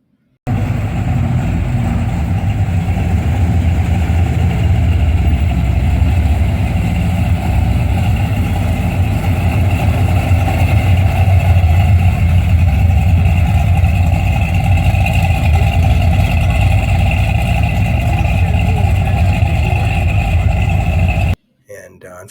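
A 1973 AMC Hornet upgraded with a 401 V8 idles steadily at a cruise night in San Diego, a deep, loud, continuous rumble with no revving, close by amid crowd murmur.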